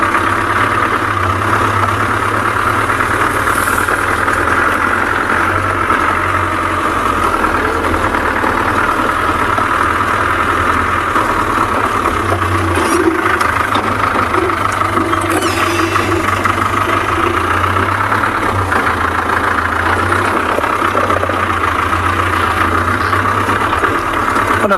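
A safari game-drive vehicle's engine idling at sunset, a loud, steady low rumble with a mid-pitched drone running unbroken throughout.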